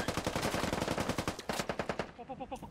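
Automatic gunfire in the tactical video game SquadOps: a fast, even rattle of shots from a friendly player, fairly quiet and continuous, with rhythmic bursts going on throughout.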